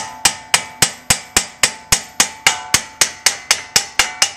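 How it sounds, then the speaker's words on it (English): A big hammer gently taps a Honda Civic CV axle out of its wheel hub on a 2005-2011 automatic, giving sixteen sharp metallic strikes at a steady, quick rhythm, each ringing briefly, loud and close with no talk. "So what you want to do is take a big hammer"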